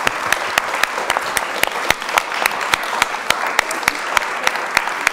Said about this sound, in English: And join me in thanking our panellists